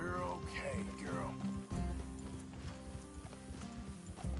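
Horses walk in the Red Dead Redemption 2 video game, their hooves clip-clopping faintly beneath steady game music and ambient hum.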